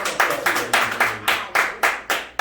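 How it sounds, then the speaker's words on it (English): A small group claps in a quick, steady round of about eight distinct beats, close and fairly loud, with a bit of voice underneath during a casual talk-show chat. "That's a round of applause for that"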